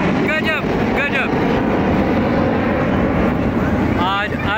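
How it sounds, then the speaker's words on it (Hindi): Five jets at an air show in Prayagraj produce a continuous loud roar, with excited spectators talking over it throughout. "ये देखिए पांच जेट का।"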